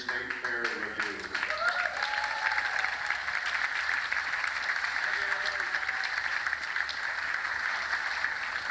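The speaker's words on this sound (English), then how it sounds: "And one more big cheer for the great Danbury State Fair Revue." A large audience at the Danbury State Fair Revue cheers and applauds after a short spoken line, steady dense clapping and crowd roar filling the space and holding level to the end.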